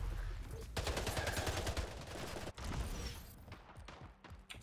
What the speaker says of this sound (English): I don't like the hand cannon from range.